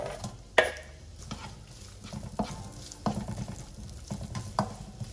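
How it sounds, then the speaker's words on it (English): About a tablespoon of oil goes into a pan for Vietnamese beef stew, bò kho. A soft, steady sizzle runs under several close knocks and scrapes of utensils against the pan, with no talking. "So let's go ahead and add oil to our pan here."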